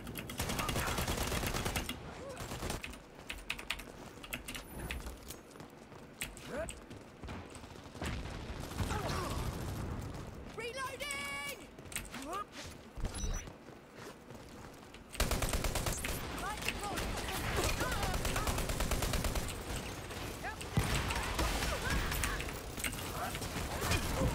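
Rapid bursts of gunfire from a gun in the Halo video game, dense rattling volleys near and loud almost throughout, briefly thinning midway before resuming strongly.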